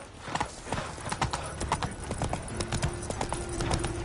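Horse hooves gallop in The Witcher 3 on PS5, a fast steady clip-clop rhythm heard up close throughout, with faint background game sounds.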